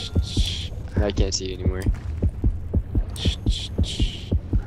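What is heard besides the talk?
accelerating heartbeat in video game Depth, sharks nearby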